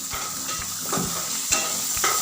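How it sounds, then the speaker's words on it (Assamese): Fish pieces go into a pan of curry with potatoes over a medium gas flame, a steady sizzle with a few clanking stirs and scrapes of a spoon close up. "মাছখিনি দি ভালদৰে লৰাই দিম।"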